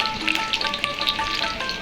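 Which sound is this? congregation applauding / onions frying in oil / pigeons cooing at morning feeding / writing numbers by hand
onions frying in oil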